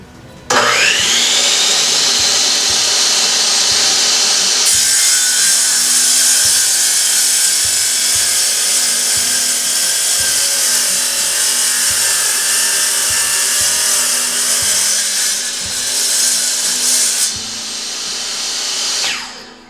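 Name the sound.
Ridgid wet tile saw making a 45 degree cut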